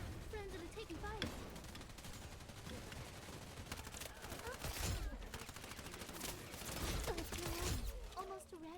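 Rapid bursts of gunfire in the shooter game Wild Assault, dense and overlapping fusillades crackling throughout, with voices talking over the shooting.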